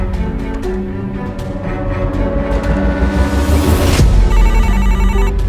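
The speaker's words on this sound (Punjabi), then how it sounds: "Raj the phone" A telephone rings in repeated bursts over a steady background of music, loud and close, with no talking.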